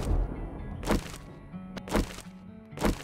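Rocket launcher fired in 7 Days to Die: three heavy thumping launches spaced about a second apart, loud and close with short booming tails.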